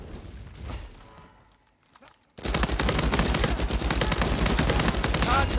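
Sustained AK rifle fire in Uncharted 4 multiplayer, a loud, rapid, continuous automatic burst after a quieter stretch of softer game sounds, no talk.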